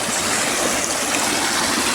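Floodwater spills across a road near flooded paddy fields, a loud, continuous rushing and gurgling wash heard up close without a break.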